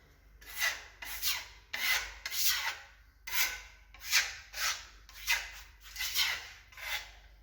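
Repeated scraping strokes of a trowel spreading decorative plaster across a hallway wall, about ten rhythmic rasping passes, close and steady with no talking.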